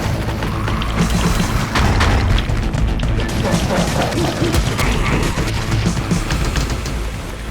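Explosions in the video game Dying Light The Beast: heavy booms and crashing debris rumble continuously under a busy, loud game soundscape, with a player talking over it.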